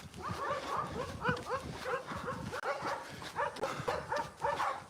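Several dogs bark repeatedly from backyards of houses backing onto a running trail, a steady run of overlapping barks and yips at moderate distance, loud and continuous with no pauses.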